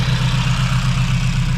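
A Honda H22 engine swapped into a Civic EG idling close up, a steady low throbbing rumble with an even pulse and no speech.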